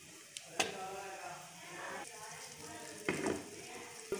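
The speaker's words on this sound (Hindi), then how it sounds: "अब थोड़ा सा उसमें मक्खन शामिल करेंगे।" Butter melting into a tablespoon of hot desi ghee in a pan, with a soft steady sizzle and a few sharp clinks of utensils scattered through the moment.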